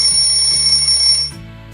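An alarm clock rings with a steady, high, continuous electronic tone for over a second before it abruptly stops, leaving a faint low hum.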